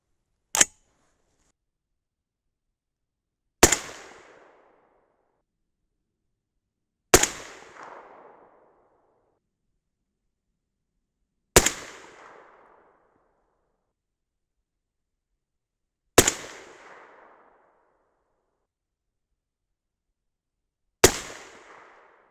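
Six 6.5 Grendel rifle shots with 135gr Berger Classic Hunter bullets over Power Pro Varmint powder, sharp loud cracks spaced a few seconds apart, each one followed by a short rolling echo before silence returns.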